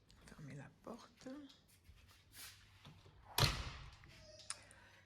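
An apartment door is shut with one sharp thud near the middle, after quiet speech in a newly furnished living room. A faint click follows.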